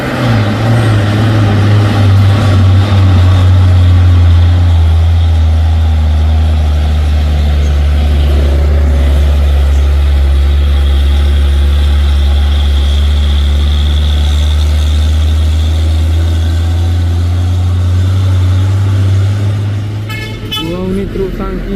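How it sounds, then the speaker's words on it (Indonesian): A CP 6x2 tanker truck trailer sits idling, its engine a loud, steady low drone close by that runs unbroken for the whole stretch, with a brief rattling flutter near the end. "Ini truk tangki CP teman setia 6x2 bosku"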